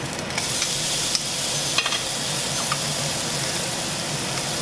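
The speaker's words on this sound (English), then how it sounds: "When you have a piece of meat that's about 1 inch thick, and you have a pan that's like 1 millimeter thick" A rosemary garlic pork chop about an inch thick sizzles and fries in a very thin pan, a steady crackling hiss close up with a few brief clinks and scrapes, no voices.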